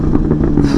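A 2023 BMW S1000XR sport-touring motorcycle engine snarls loud and close in a short burst, a low throbbing rumble with rapid pulsing, heard alone without talk.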